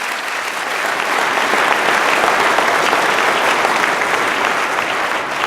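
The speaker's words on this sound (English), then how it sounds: "Give some round of applause for the team at the IMA staff." Sustained applause from an audience honoring a staff team at a manufacturers' association annual event, loud and steady throughout, with dense clapping filling the whole stretch and no voices standing out.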